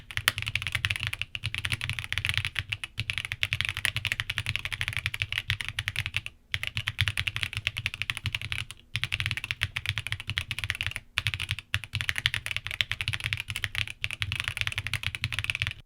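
Fast, steady typing on a Tofu60 2.0 mechanical keyboard with linear switches, dense and even keystrokes with a couple of brief pauses, close up and alone.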